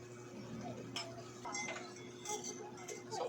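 A lid clinks onto a cooking pot of simmering noodles with liver and intestines for a Filipino breakfast, a few light metallic clinks over steady kitchen hum.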